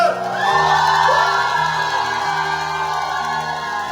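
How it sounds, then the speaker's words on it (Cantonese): Cheering crowd of fans at a live music event inside a bank venue, a steady, loud wash of shouts and whoops that swells early and then holds, with a low musical drone running underneath. "我哋俾啲歡呼聲佢哋聽下先啦"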